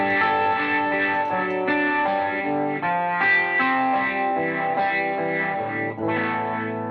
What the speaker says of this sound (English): So here I'm going to turn on the phase shifter.